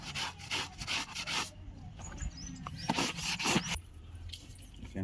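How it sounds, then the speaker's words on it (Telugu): Silver items being scrubbed with a brush, chemical and hand wash, giving rapid rough rubbing and scraping strokes in bursts, close and fairly loud, with no talk. "ఓకే మనం బ్రషింగ్ చేద్దాం"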